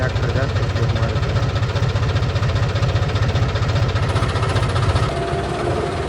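A tractor engine runs steadily on a rough farm track strewn with fertilizer and heaps, a loud, close, continuous low throbbing with some vibration throughout.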